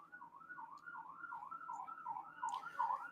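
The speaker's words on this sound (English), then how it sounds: "sorry about the sirens." A wailing siren rises and falls steadily in the distance, continuous for the whole stretch, growing slightly louder toward the end.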